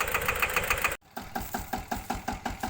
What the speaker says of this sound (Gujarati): આ સવડા છે એ સ્ટીલ ટ્રેક 15 એચપીનું ટ્રેક્ટર છે